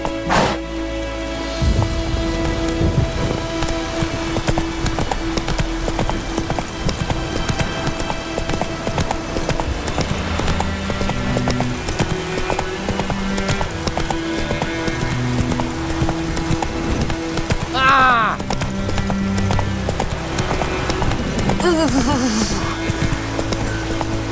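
Horse galloping in The Witcher 3, steady hoofbeats running loud throughout under game music and ambience, with a brief whinny-like rise near the end.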